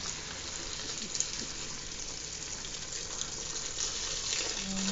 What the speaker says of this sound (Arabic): هلا رح احط المي وسكر